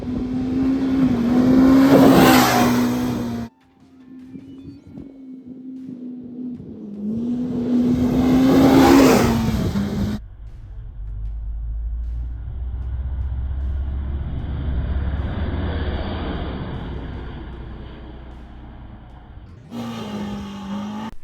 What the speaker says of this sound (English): just running those both through the same whoops right here, which is the fence line